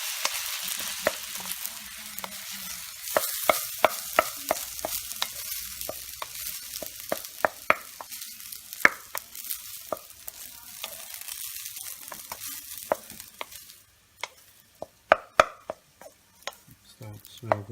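Stir-fry mixture tossed and stirred in a hot pan, with steady sizzling and frying under frequent sharp scrapes and clinks of a utensil against the metal, close and fairly loud throughout.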